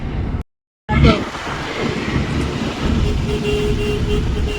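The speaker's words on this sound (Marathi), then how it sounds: "ट्रेन आहे ट्रेन बघू तुम्ही" A loud, continuous rumbling roar of a passing train fills the recording after a brief cut to silence, steady and near, with faint voices mixed in.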